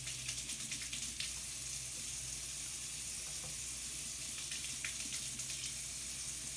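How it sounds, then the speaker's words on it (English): Tap water running steadily into a kitchen sink during handwashing, a constant close hiss with faint splashing and no talk over it. "I think I'm going to wash my hands."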